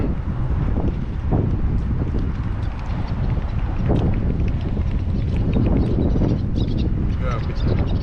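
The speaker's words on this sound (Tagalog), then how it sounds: "Sarap ng hangin, no?" Steady wind blowing across the microphone, a constant low rumble with gusty buffeting throughout.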